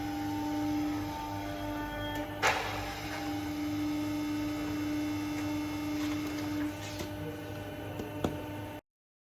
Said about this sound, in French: Profilage des 900 plaques de zinc avec une presse de 10 tonnes.